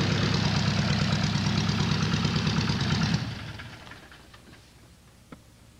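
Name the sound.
light aircraft engine running at low power on ground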